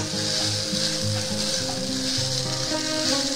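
Poha sizzles and fries steadily in a pan while being stirred, a dense continuous crackle with soft scraping, close and fairly loud with no talking.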